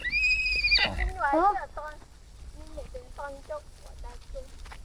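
Newborn foal neighing: a high, wavering whinny up front, then a run of shorter, softer calls and nickers, with people talking nearby.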